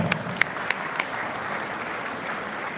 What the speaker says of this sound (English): may I have a big round of applause for them